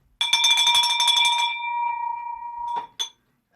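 A celebratory bell rings out in an office, a bright rapid clanging flurry that settles into a long sustained ringing tone, then one more short strike, loud and close.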